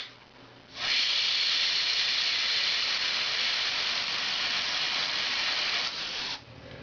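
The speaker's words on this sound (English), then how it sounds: "Now another way that I apply color is with an airbrush." An airbrush spraying paint onto an artwork gives a steady, close hiss that starts abruptly, holds evenly for about five seconds and then cuts off.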